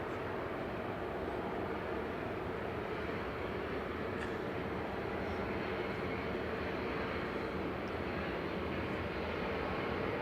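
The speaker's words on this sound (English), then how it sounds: "Double prop time. Aer Lingus prop going first." An Aer Lingus Regional propeller aircraft departs Manchester Airport for Belfast, its engines a loud, continuous broadband drone that holds steady throughout.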